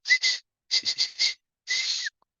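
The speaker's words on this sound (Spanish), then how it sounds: "Un silbido largo para que pare" Several short whistle bursts followed by one longer sustained whistle, a port cargo-handling signal to stop, shrill and clear against silence.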